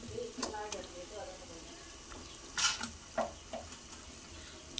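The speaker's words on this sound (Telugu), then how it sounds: "చేపలన్నీ వేసుకొని ఆ పేస్ట్ అంతా ఆ ముక్కలకి పట్టేటట్టు కలుపుకోవాలి." Fish pieces coated in spice paste fry quietly in a pan for a fish curry, with a soft sizzle broken by irregular stirring scrapes and clatters. The frying stays faint.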